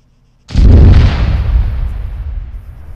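A loud explosion in the military video game Arma 3, a sudden heavy boom that rolls into a long rumbling decay, heard alone without speech.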